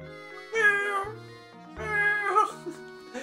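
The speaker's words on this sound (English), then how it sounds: "What's this cat doing here?" Two drawn-out, whiny cat meows from a Professor Layton game, each rising then falling, separated by a short pause and set over soft background game music.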